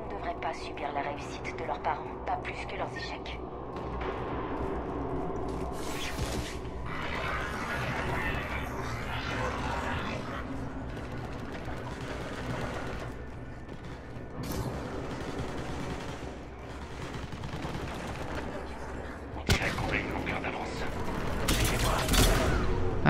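A newly picked-up weapon fires in the video game Mass Effect 3, with dense bursts of gunfire and mechanical clatter over steady game ambience. Someone talks over the shooting.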